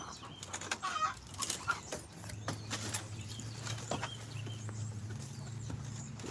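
Backyard chickens in a run cluck faintly in short irregular bursts, with soft scratching and rustling around them in a quiet outdoor setting.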